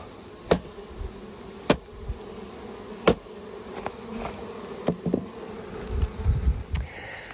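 Large honey bee colonies buzz in a low, steady hum, with individual bees zipping close past at intervals and some soft handling bumps near the end.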